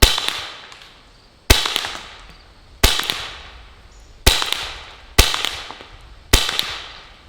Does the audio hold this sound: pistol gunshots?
yes